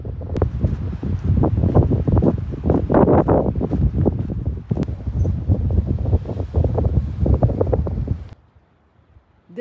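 Steady wind buffeting a microphone on the Pacific Crest Trail, a loud continuous rumble with gusty swells for most of the clip before dropping off abruptly near the end.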